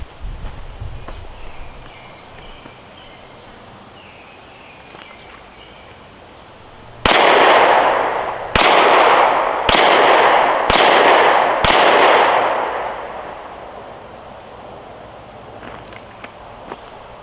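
Five sharp outdoor shots from a Glock 43X pistol firing Blazer 124 grain rounds, fired one after another at roughly one-second intervals, each loud crack ringing off briefly before quieter ambient noise returns.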